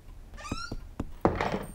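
A cartoon cat meows in a Postman Pat episode, two short close meows followed by a soft thump, alone without talk.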